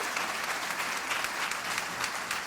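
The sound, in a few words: audience applause for a band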